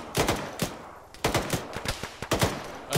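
Several sharp gunshots crack in quick, uneven bursts in the ShackTac Arma military game, close and loud with brief gaps between shots and no talk.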